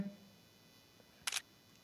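A phone camera shutter fires once, a short crisp click-burst, fairly loud against a quiet background, while photographing exam question paper sheets to make a PDF.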